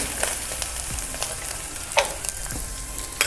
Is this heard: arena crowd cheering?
no